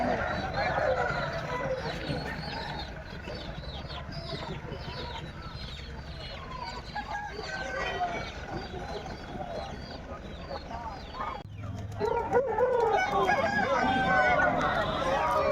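A dense chorus of country chickens clucking at a market, with occasional crowing mixed in, continuous and busy throughout while people talk over it.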